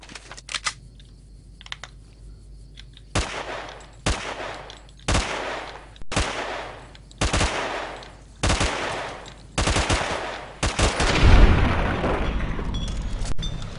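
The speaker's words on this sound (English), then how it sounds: "submachine guns aren't known for accuracy at long range, but it looks like we just about ran out of ammo" Submachine gun fire in Fallout New Vegas, several loud bursts of rapid automatic shots separated by short gaps, each burst sharp and close, ending in a heavier crashing volley.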